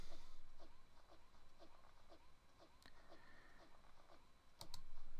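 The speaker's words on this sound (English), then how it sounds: "That's an interesting drum beat." An AI-generated drum beat assembled from everyday sounds: light clicky, tapping hits in a quick, fairly even rhythm, moderately quiet, with a couple of sharper accents toward the end and no one talking.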